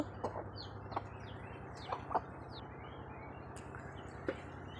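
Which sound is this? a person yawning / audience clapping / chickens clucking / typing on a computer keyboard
chickens clucking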